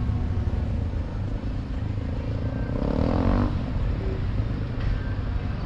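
A Kawasaki Versys 650 touring motorcycle at a training course, its engine a steady mid-distance drone that rises briefly as it pulls away and rides, heard alone without talk.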